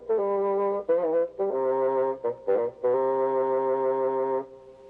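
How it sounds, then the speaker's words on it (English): A low, reedy woodwind plays a slow melodic phrase of sustained notes with short breaks between them, heard alone and up close. "It's the bassoon."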